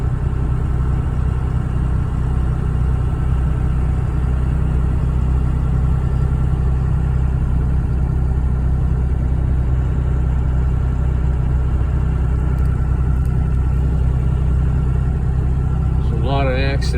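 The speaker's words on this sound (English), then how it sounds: "right along with me in my Dodge with my 24 valve Cummins" A Dodge truck with a 24-valve Cummins diesel engine rolls along a road, giving off a constant low, heavy drone close by that holds steady throughout.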